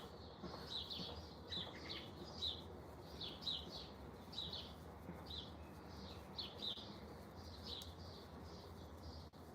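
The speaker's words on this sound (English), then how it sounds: "It's kind of crazy how much the live picks up the birds because they're really not that loud." Small birds chirping in the background, a steady series of short high tweets repeating about once a second, faint and distant over low room noise.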